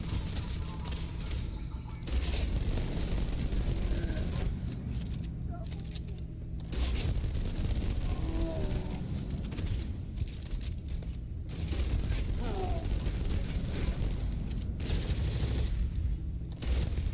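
Enemy gunfire in a Starfield firefight crackles in steady bursts across the clip, loud and dense, with a player talking over it in places.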